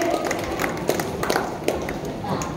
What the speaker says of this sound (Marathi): त्यांच्यासाठी एकदा जोरदार टाळ्या होऊ द्यावे